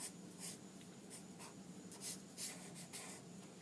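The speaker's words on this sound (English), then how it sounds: "And then we'll draw the hole." Pencil or pen scratching quick, loose, chaotic lines across paper, a series of soft rhythmic strokes heard close up in a calm, quiet studio.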